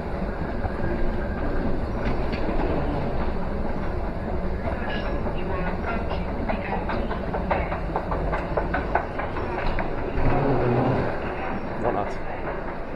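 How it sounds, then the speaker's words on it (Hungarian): A train running on rails, a steady dense rumble with faint rhythmic clatter throughout, heard from on board or close by while people talk underneath. "Vonat."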